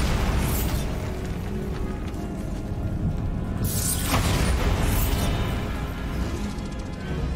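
The Bombarda blasting spell going off in Hogwarts Legacy, heavy booming bursts over a constant rumbling bed, with one sharp crashing blast near the middle and a second around five seconds.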